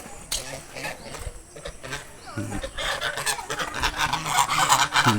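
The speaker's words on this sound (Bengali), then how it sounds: "এই দেখো সেই রাজহাঁস দেখিয়েছিলাম অল্প" Domestic geese honk in loud, uneven bursts at a temple, the harsh calls repeating close by over a busy outdoor background with voices talking.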